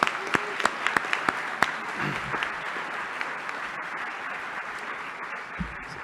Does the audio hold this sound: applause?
yes